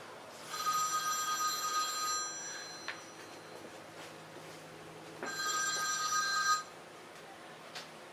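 A telephone bell rings in two separate bursts a few seconds apart in an indoor workshop, moderately loud, with a quiet gap between the rings.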